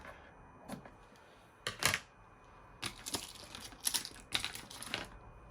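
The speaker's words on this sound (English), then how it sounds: "I'm just going to trim the excess fabric away from the armhole like so." Scissors trimming excess fabric away from the armhole of a draped bodice, heard as a few separate short, crisp snips and clicks spread across the stretch, fairly close and quiet, with no talking.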